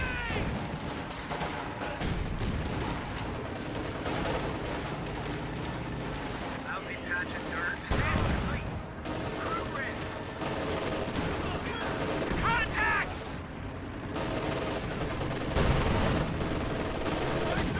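Machine gun bursts and scattered rifle fire crackle in a World War II strategy game match, dense and continuous with heavier booms mixed in, under a commentator's talk.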